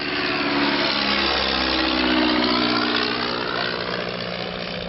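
De Havilland Gipsy Moth biplane with its Gipsy Major engine, a loud, steady propeller drone that swells slightly midway, heard close and continuous throughout at the Shuttleworth Collection, Old Warden.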